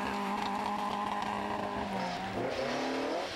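An Opel Corsa rally car on a forestry rally stage, its engine droning steadily and loud throughout, with the pitch climbing and shifting around the gear changes.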